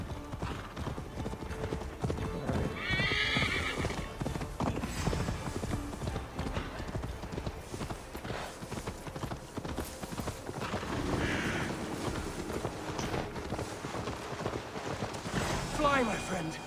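Rapid hoofbeats of a galloping horse in Assassin's Creed Valhalla clatter steadily throughout, with a couple of brief whinnies breaking through amid busy background sound.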